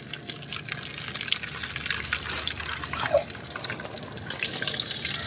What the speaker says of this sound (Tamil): சங்கு சதை பொரியிறது.